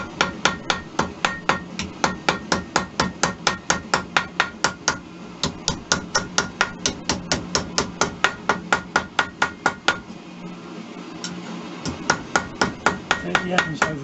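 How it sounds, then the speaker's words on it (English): Rawhide and boxwood mallets strike annealed silver on a three-arm stake in a steady, rapid series of sharp metallic taps, close and clear, with a brief pause partway through. "now there's a good old 3-arm stake and rawhide, boxwood mallet again."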